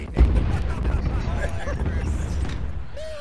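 A cannon volley booms once in a Battle of Bunker Hill video game, a heavy low blast early on that rolls off into a rumbling, crackling tail.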